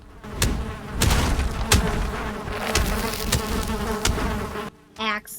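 Bees buzz steadily and loudly near a small house in the video game Valheim, a dense droning hum broken by a few sharp clicks, cutting out briefly near the end before resuming.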